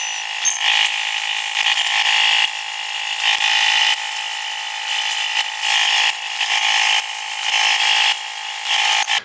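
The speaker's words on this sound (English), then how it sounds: "I use a paint stripping disc to remove all the paint on this deck lid" A paint stripping disc grinds paint off the deck lid of a 1963 Thunderbird, a loud, steady abrasive whir that swells and eases in repeated passes with no talking.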